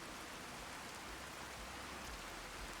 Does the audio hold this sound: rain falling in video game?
yes